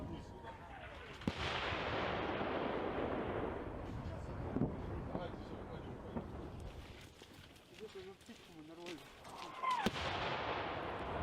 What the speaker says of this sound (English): As you see and hear, fighting is ongoing with all available weapons.